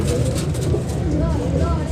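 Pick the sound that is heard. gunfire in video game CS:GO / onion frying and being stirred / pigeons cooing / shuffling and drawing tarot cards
pigeons cooing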